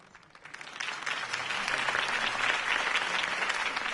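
A crowd breaks into loud, sustained applause that swells after a quiet start and continues steadily to the end.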